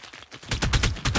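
A Velonasaur firing its spine volley in the video game ARK, rapid repeated sharp bursts like machine-gun fire, loud and close, starting after a short quieter lead-in.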